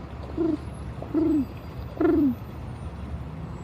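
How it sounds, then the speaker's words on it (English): Three soft, low coos from a pigeon, each a short falling note, spaced about a second apart over a faint background hum. "pigeon noise."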